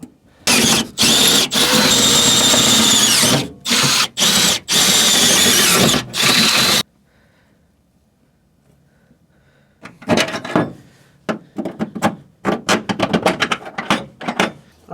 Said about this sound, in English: Now we're just gonna drill them the rest of the way out.